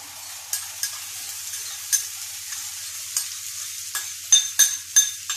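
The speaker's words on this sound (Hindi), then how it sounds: "बिखेरने के बाद अब मैं इसमें ऑमलेट डाल दूंगी" Omelette batter goes onto ghee spread across a hot griddle, and a soft sizzle sets in with scattered light taps and clicks that grow sharper and more frequent toward the end.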